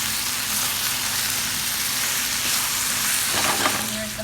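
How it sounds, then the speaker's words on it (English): Sausage and tomatoes frying in a pan give off a loud, continuous sizzle, close and even, with faint stirring crackle and no talking. "Now that the sausage is cooked a little bit, we're going to add the tomatoes."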